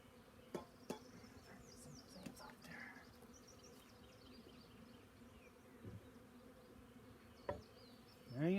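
Faint, steady honey bee buzzing hums in the background as swarms are transferred from Layens swarm traps, with a few sharp knocks and clicks scattered throughout and a louder thump near the end.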